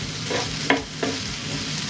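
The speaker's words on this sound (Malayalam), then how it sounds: "നല്ലപോലെ മിക്സ് ചെയ്ത് നമുക്കിതൊന്ന് വറുത്തെടുക്കാം." Grated coconut and shallots roast in a pan with a steady close sizzle, punctuated by two quick scraping stirs.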